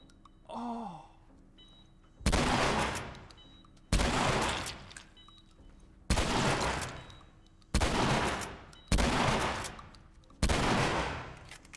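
Six heavy, evenly spaced gunshots from a firearm in the survival game The Last of Us, each a loud sharp crack with a decaying tail, preceded by a brief groaning vocal sound.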